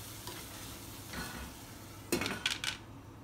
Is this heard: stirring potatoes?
yes